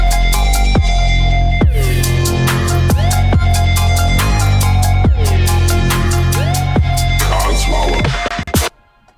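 Brostep verse with a bright triangle-wave synth lead over heavy sub bass and punchy drums, sweeping pitch bends and glitchy fills recurring in a driving rhythm, loud and dense throughout before cutting off abruptly at the end.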